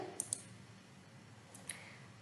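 Computer mouse clicks while working in Fusion 360 3D modeling software: a quick pair of faint, sharp clicks followed by one more a moment later, close against a quiet room.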